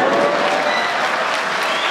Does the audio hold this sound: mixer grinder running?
no